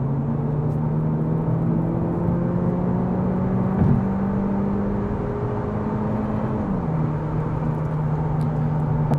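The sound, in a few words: Cupra Leon 1.5 eTSI car accelerating from 80 to 120 km/h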